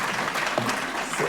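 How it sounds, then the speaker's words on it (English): An audience at a talk on the media applauds the speaker, a short, steady patter of many hands clapping with a couple of brief voice-like sounds mixed in. "I think I deserve a clap."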